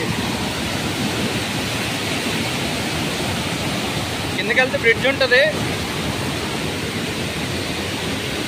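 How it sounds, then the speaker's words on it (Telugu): Kothapalli waterfall swollen in the rainy season, a loud, constant broadband roar of rushing water filling the whole scene, with someone briefly talking over it midway. "అయ్యో, మనకి ఇంకా కొత్త జలపాతం ఏర్పడినట్టుంది."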